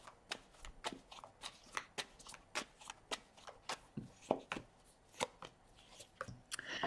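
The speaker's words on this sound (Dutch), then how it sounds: "Dus dan de kaarten schudden om te kijken wat deze week voor jou gaat brengen." Tarot cards are shuffled by hand in a quiet room, giving a fast run of about twenty sharp, crisp riffling snaps and slaps at a steady rhythm, close and soft.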